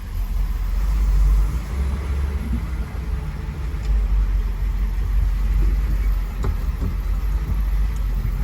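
A 1964 Buick Riviera engine idles steadily with a low, even rumble, brief faint clicks as the transmission is shifted through the gears, no talking.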